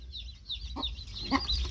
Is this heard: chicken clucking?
yes